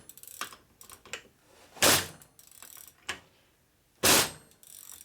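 Socket ratchet turning a bolt on a 2001 Gilroy Indian motorcycle under rebuild, quick clicking pawl ticks broken by two loud, rasping ratchet strokes, close by in a quiet workshop.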